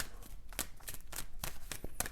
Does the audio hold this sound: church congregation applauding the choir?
no